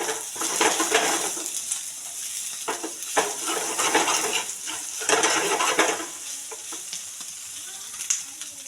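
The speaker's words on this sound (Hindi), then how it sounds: "इसको अच्छे से हम हिलाएंगे" Masala for dhaba-style paneer do pyaza is stirred and sizzles in a pan. Spoon scrapes and stirring strokes come in rhythmic pulses over a continuous close frying hiss, with no talk.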